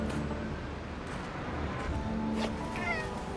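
A cat meows repeatedly in Spider-Man Miles Morales, its cries clear above a steady bed of city ambience and game background noise, with no talk over it.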